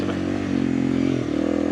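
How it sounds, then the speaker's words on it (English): Motorcycle exhaust on a dirt trail climb, a steady low engine drone rumbling close and loud throughout with slight rises in pitch and faint clatter from the terrain. "Exhaust noises now."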